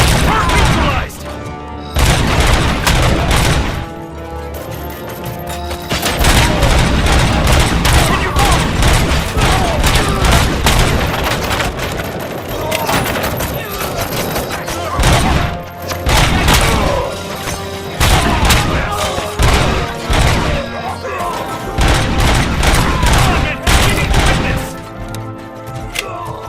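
Heavy gunfire from a RoboCop: Rogue City bank heist shootout, with dense bursts of shots and booming impacts running almost nonstop, loud and close, under game music and scattered voices.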